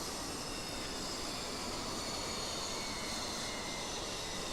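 A Mirage F1 jet in the DCS flight simulator heard from the cockpit produces a steady, dense roar of engine and rushing air, unbroken and fairly loud throughout.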